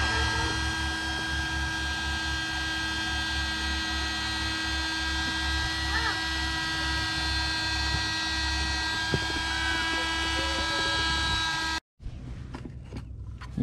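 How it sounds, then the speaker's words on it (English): An electric air pump runs steadily, inflating an air mattress laid across the folded-flat back seats of a Jeep. Its hum is loud and continuous, then cuts off abruptly near the end before a quieter stretch. "This is the pump they give you."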